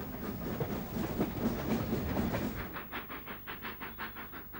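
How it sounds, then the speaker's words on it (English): A 1923 steam locomotive running on rails, first a dense rushing roar, then distinct rhythmic chuffs and clickety-clack beats at a steady pace, moderately distant. "Built in 1923, retired in 1963, and still going strong. The first locomotive to 100 miles an hour."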